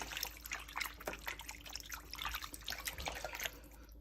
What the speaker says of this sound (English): Wash the meat nicely.